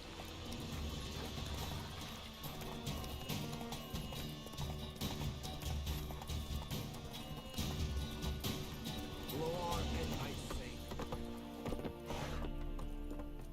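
Roach the horse runs in the video game Witcher 3, hooves clip-clopping in a rapid, continuous gallop amid game music and ambience, with a brief whinny and some speech.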